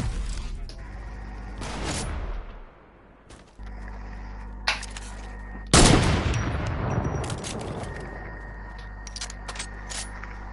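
Gunfire rattles through a PUBG-style battle in a video game: repeated sharp shots and bursts, some loud and close, others fainter, over a steady engine-like drone, with brief talking layered in.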